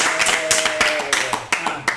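Audience claps for an indie band, a brief burst of scattered hand claps mixed with a speaking voice and background music, lasting about two seconds.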